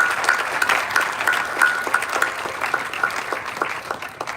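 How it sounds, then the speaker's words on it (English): An audience at Boulder City's State of the City address applauds the City Council with steady, moderately loud clapping that lasts the full stretch, with a faint sustained tone running underneath. "Please, another round of applause for our City Council."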